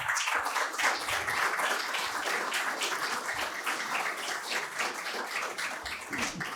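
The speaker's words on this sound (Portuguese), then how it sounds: "Uma salva de palmas, uma aula magna." Audience applause after a university lecture, a dense steady wash of many hands clapping that holds at an even, moderate level for several seconds without talk.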